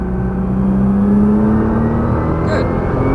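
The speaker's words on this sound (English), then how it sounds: "Now we're squeezing the throttle all the way out." A Nissan GTR engine pulls hard at full throttle on a racetrack, a steady, rising engine note held under a voice giving driving instructions.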